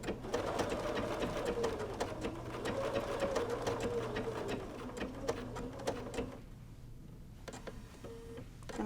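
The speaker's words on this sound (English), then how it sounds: "I'm just going to put my needle down, and we're just going to do a blanket stitch" A sewing machine runs a blanket stitch along the edge of a quilt in a continuous close whir and tick, with the rhythm shifting slightly and briefly pausing near the end.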